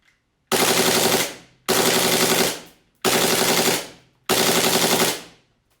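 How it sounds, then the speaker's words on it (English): An ACE TECH tracer unit on an airsoft Glock pistol fires four long full-auto bursts, each a loud, dense, rapid buzz of shots lasting about a second, separated by short pauses with no talking. "Now we're going to switch it over to full auto."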